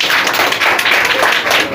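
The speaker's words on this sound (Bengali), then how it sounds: "তো আমাদের মেয়েদের জন্য একটা জোরে করতালি দি পুরুষরা" Dense audience applause as men in a hall clap loudly, a steady close wash of many hands without a break.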